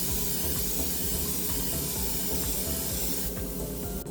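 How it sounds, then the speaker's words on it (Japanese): An airbrush sprays Gaia Notes Surfacer Evo black primer onto Gunpla model parts, a close, steady, continuous hiss that shifts slightly near the end. "常にパーツかエアブラシは動かして薄く塗料を重ねていくイメージで吹き付けていきましょ"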